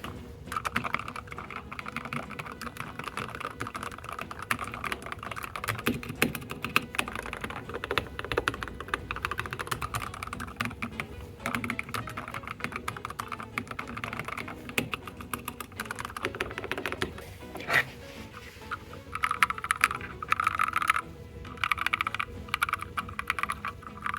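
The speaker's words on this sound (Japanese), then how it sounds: "打鍵音、打鍵感確かめていきたいと思います。" Continuous close-up typing on a freshly assembled DROP OLKB Planck V7 40% ortholinear keyboard with lubed switches, producing steady, muted clacks and taps in an uneven flurry for over twenty seconds.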